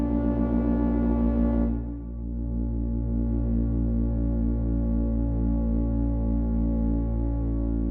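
A buzzy, bright synth note through a Befaco Morphader module's low pass gate abruptly darkens and softens, continuing as a mellow, muted drone with a gently pulsing texture.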